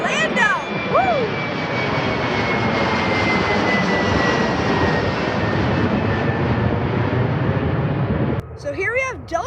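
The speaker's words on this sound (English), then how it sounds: "here we have a JetBlue going to Orlando" A JetBlue jet airliner leaving Boston Logan for Orlando gives a loud, sustained roar with a thin whine above it. Birds chirp near the start, and the noise dips sharply just before the end as birdsong returns.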